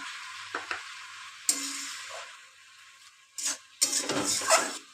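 Lentil dumplings (bori) drop into a spinach curry frying in a pan, a steady hiss and sizzle broken by a few clatters and louder bursts of spattering, close by.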